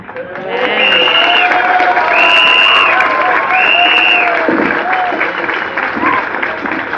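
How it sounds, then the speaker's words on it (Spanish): A crowd at an outdoor rally against gender ideology in schools applauds and cheers for a mother named Nancy, a steady, dense wash of clapping with sustained whistles or tonal calls and voices mixed in throughout. "Fuerte el aplauso para Nancy"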